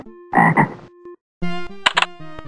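Several short, throaty frog croaks from the MS-DOS game Kids Zoo come in quick pairs, loud and close, separated by a brief silence, with tonal notes ringing alongside.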